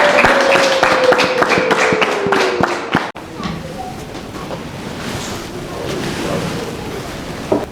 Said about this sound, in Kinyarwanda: Ngiye kubasaba twongere abagabo mutanga amashyi, ababyeyi batanga impundu cyane